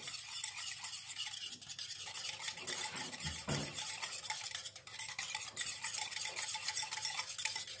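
A spoon stirring a courgette tart mixture seasoned with salt and Espelette pepper, a continuous close scraping and swishing against the bowl with no pauses.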